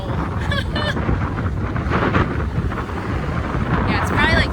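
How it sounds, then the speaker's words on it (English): Strong gusty wind roars against the microphone outdoors in a dense, continuous rumble, with brief voice fragments breaking through. "Oh my gosh, it is so windy right now."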